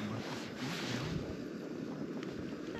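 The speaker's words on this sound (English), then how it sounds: "the wind's blowing the gas out a bit" Steady, loud wind roars and buffets the microphone outdoors at a wild camp in the Scottish Borders, blowing across a small gas camp stove in a continuous broadband rush with no pauses.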